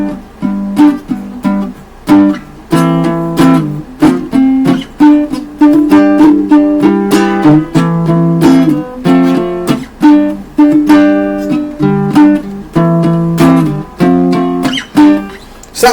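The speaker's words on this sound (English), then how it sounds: "the only way the baritone ukulele sounds like a guitar is if you play certain chords" A baritone ukulele strums a run of guitar-like chords, loud and close, in a steady rhythm of ringing strums with no talking.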